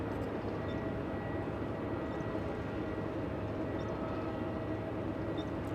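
An Emirates airliner arriving at LAX roars as a steady, broad engine rumble that stays even and moderately loud throughout, heard from a distance with no voices.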